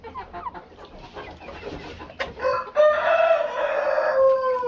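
A mixed flock of chickens on a small-scale poultry farm: hens cluck and chatter nearby, then a rooster lets out a loud, drawn-out crow that carries to the end.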